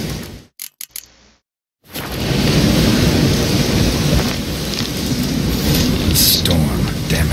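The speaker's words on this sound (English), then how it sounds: "Storm, damn it." Thunderstorm with heavy rain in The Witcher 3 video game, a loud steady roar of downpour and rumbling thunder that swells in after a few brief choppy bursts and a short silence.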